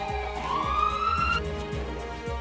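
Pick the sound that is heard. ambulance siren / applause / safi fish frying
ambulance siren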